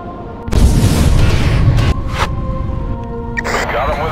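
Naval guns firing in the Battlestations: Kantai Kessen video game, a loud sustained boom with a rumbling tail followed by lingering battle noise and a couple of further blasts.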